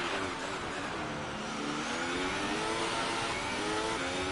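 An F1 race car from F1 2018 accelerates hard, its high engine note rising steadily through the gears. The loud, continuous whine carries on with no talking over it.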